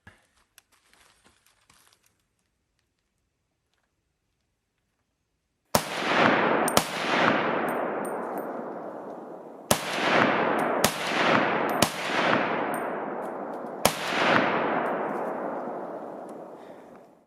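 Loud .308 FAL rifle shots ring out after several seconds of near silence, six sharp reports at irregular intervals, each trailing into a long rolling echo across an outdoor range.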